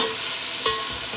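Spices frying in a cooking pan give a steady soft sizzle throughout, with one brief stir or clink partway through, faint and alone.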